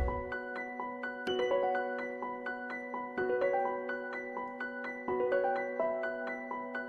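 A dark ambient melody from a Kontakt Player stock preset, played as plucked, bell-like repeating notes in a steady pattern with sustained tones beneath, clean and close with no talking.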